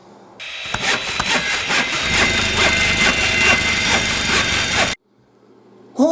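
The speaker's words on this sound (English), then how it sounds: "the first thing I'm going to do is cut this little basket off of his head" A hand saw cuts a small basket off the head of a wooden nutcracker, giving close, loud, rapid rhythmic rasping strokes for several seconds before stopping abruptly.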